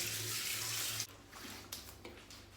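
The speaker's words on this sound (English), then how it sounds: "So I'll rinse with cold water." Cold tap water runs steadily into a sink for a rinse after a shave, a full rush for about a second before easing into lighter, uneven splashing and trickling close by.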